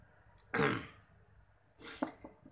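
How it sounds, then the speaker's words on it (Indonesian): A sharp throat-clearing cough, then after a pause a second rougher cough and throat clearing, close and alone. "Maaf, saya batuk, ya."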